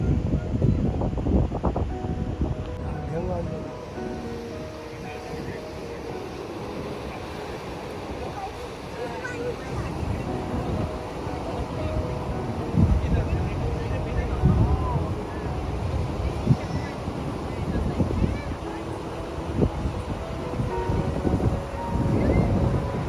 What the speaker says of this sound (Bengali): এই সমুদ্রের ধারে কি মারাত্মক পরিমাণে হাওয়া দিচ্ছে যে কি বলবো